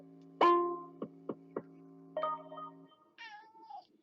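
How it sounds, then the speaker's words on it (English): A cat meows several times, starting with a longer call, then short chirpy mews, and ending with a rising-falling meow over a faint steady hum. "If you can hear something in the background, it's the little pussycat."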